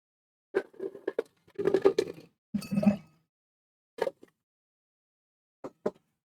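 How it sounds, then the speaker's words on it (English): Ice cubes dropped into a cocktail glass for a New Orleans drink, a scatter of sharp clinks and rattles in several short bursts separated by pauses, fairly close and alone. "And from here, we're going to add our ice."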